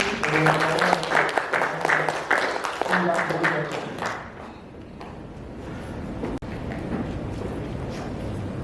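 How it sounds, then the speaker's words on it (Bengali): A crowd at a Mother's Day religious gathering bursts into sustained, loud applause that continues to the end, following a man's spoken address. "আসুন আমরা প্রভুর উদ্দেশ্যে জোরে হাততালি দিই"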